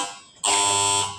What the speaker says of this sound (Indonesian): Dicoba dulu belnya.